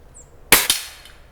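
A Hatsan 95 .25 caliber air rifle fires a single sharp crack at a bird target, followed by a quick second metallic report from the hit, close and loud against quiet outdoor surroundings.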